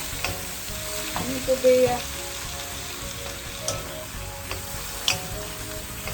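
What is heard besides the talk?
stir-frying seafood and egg noodles, sizzling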